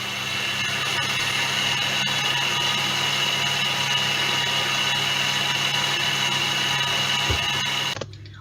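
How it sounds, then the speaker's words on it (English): A stand mixer beats butter and sugar for cupcake batter, a steady loud motor whir with a constant hum running for about eight seconds before stopping. "If you are using a standing mixer, make sure to scrape down the entire bowl and keep mixing"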